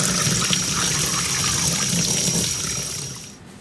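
Tap water pours steadily over honed Rotax 582UL two-stroke engine cylinders to rinse them. The loud, close, continuous gush cuts off near the end.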